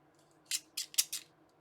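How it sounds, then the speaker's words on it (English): Four quick snips of scissors cutting paper, close and crisp in an otherwise quiet room, evenly spaced over about a second. "I wonder if these other scissors work."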